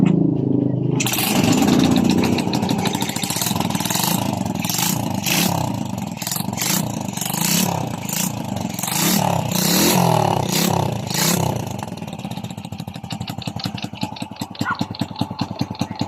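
A Honda Wave 100 motorcycle engine sputters to life after a kick and keeps running with a loud, rattling idle close by, settling into a steady chugging rhythm.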